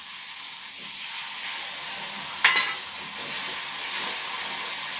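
Spices and green chillies frying in hot oil in a pan, a steady bright sizzle with a sharp burst midway as spices are stirred in, close and alone.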